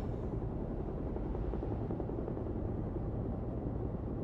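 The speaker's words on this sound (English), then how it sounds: "Boss sends his own private helicopter to get an agent back." Steady, loud rotor drone of a helicopter heard from inside the cabin in Beyond: Two Souls, a constant low rumble with no pauses and no voices.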